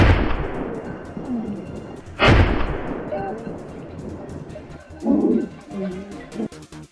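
Gunshots ring out in a forest during a wild boar encounter: one sharp, loud blast cracks near the middle, followed by a second heavier boom, with birds calling faintly between them.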